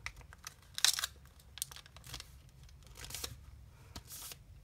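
Paper folded completely in half for an origami swan, with crisp crinkling creases and short rustling sweeps scattered across the stretch, close and fairly quiet.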